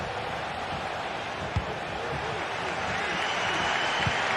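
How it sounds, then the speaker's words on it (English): Stadium crowd in a football video game roars as a steady, dense wash of cheering that swells slightly toward the end, with a couple of brief thuds poking through the constant noise. "The crowd certainly think so. Just listen to them."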